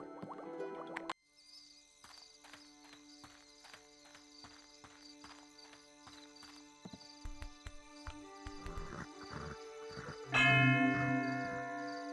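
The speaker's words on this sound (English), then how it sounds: "I've rung the warning bell." A warning bell rings in The Lord of the Rings: The Fellowship of the Ring on Xbox, a steady run of clanging strikes over a sustained ringing tone, growing louder and denser toward the end.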